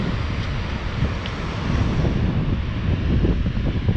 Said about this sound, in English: It's cold and windy down here.